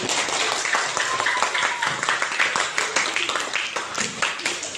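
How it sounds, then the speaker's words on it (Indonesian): A classroom of students claps together at the end of a lesson, a brisk fairly loud patter of hands with uneven bursts, close by and with no talk over it. "Tepuk tangan untuk semuanya."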